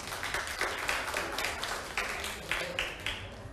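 A classroom of students claps for a classmate in a Thai secondary-school maths lesson, a ragged patter of hands with a few louder bursts, fairly close and continuing for a few seconds.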